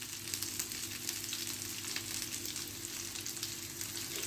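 Tomatoes fry in burger sauce in a hot pan with a steady, close, gentle sizzle and crackle throughout.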